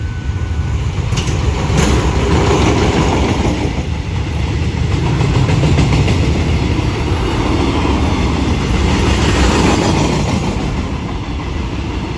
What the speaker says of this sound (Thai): กำลังวิ่งผ่านสถานีรถไฟมะลวนนะครับ